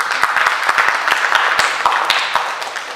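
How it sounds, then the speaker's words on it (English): A lively burst of audience applause at a scholar chat event, dense overlapping claps carrying on steadily for a few seconds at close range. "a big round of applause for the friends"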